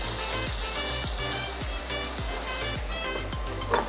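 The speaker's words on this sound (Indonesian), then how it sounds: "Sekarang dia kita tumis." Ground chili sambal paste sizzles and fries in about two tablespoons of oil over low heat, a steady crackle with rhythmic low thumps from stirring.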